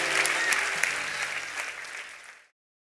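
A church congregation applauds in praise during a worship service, a dense steady wash of clapping that holds for about two and a half seconds, then cuts off abruptly into silence.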